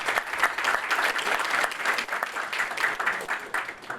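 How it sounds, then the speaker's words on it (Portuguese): Sustained applause from an audience at a urology society honors ceremony, a dense, steady wash of many hands clapping that fills the room throughout without pause. "pedimos também uma grande salva de palmas à presença dos senhores."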